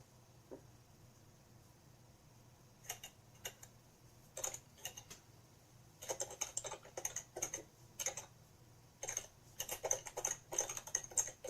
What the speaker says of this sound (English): Anytime you hear the typing, it's probably Kevin.